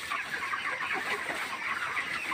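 A poultry flock pecking at special feed fills the air with steady, overlapping clucks at moderate volume, with no talking.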